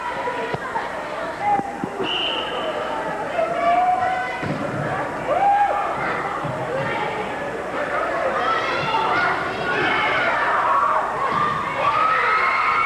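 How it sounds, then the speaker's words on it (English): A packed gym crowd at a 1987 high school volleyball match between Turtle Lake and Clayton screams and cheers continuously, with shrill shouts, thumps and a commentator's voice running underneath. "Turtle Lake screaming"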